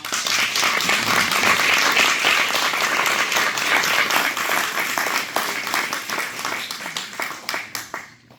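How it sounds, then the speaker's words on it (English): Audience at a 2023 school board candidate forum applauding, dense steady clapping for several seconds that thins and fades toward the end. "let's give them a round of applause"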